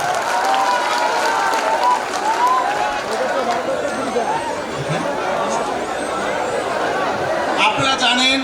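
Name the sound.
audience applause for a guest at a school anniversary event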